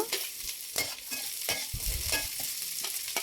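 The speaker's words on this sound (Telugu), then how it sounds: "పచ్చిమిర్చి వేసుకుని పచ్చిదనం పోయే వరకు వేపుకుందామండి" Onions and carrot frying in a pan for veg pulao, a steady close sizzle broken by repeated spatula scrapes as the vegetables are stirred.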